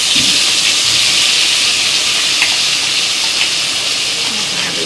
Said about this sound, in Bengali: বিরিয়ানির মাংসর মশলাটা কষিয়ে ফেলি।